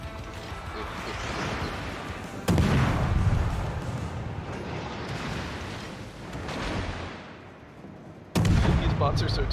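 Naval guns firing shells in a warship video game: deep booming blasts, two of them sharp and heavy, set over a continuous rumbling game soundscape.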